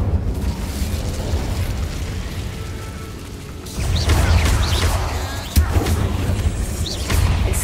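Incendio fire spell bursts in the Hogwarts Legacy video game, loud whooshing, crackling blasts over a dense layer of game noise, with a sharp impact partway through and flames roaring on.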